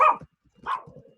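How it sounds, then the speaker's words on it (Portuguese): A small dog barks twice, close and sharp, with brief quieter yelping between the barks, heard alone in a room. "Esse cachorrinho não é do bem não"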